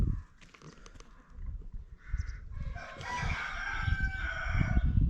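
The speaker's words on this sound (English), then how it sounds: "the bloody cockerel starts crowing about 4 o'clock in the morning" A cockerel crows loudly nearby on a farm, its long call rising through the second half over soft clucking and scratching from chickens close by.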